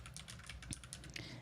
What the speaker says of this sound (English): let me type in Mediterranean recipes here